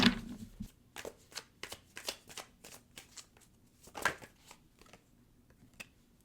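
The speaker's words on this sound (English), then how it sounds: "I'm going to pull a card to see like what this new beginning is looking like for you" Tarot cards shuffled and riffled by hand in a quiet room, a series of crisp, papery flicks and slaps at an uneven rhythm, one sharper snap near the middle, with no talking.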